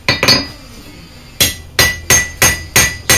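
Blacksmith's hammer striking hot steel while forging a coat hook, a couple of quick ringing blows, a pause, then five evenly spaced sharp metallic strikes close by.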